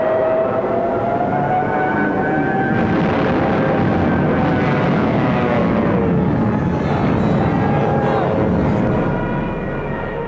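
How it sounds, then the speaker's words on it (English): World War II Stuka dive bombers fly overhead with a loud, continuous droning roar and rising and falling wailing tones throughout, fading slightly at the end. "with Stuka dive bombers blitzing just ahead of them"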